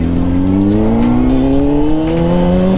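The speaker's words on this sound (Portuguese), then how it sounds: "Nossa, veio num carro aí" A car passes close on a scenic road, its engine rising in pitch as it accelerates by, loud and alone.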